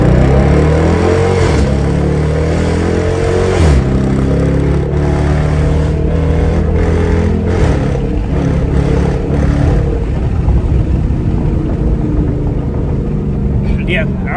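A Dodge Charger RT V8 fitted with a pedal controller revs loud and close in a steady, sustained drone with rising and falling pitch. Voices talk faintly under it.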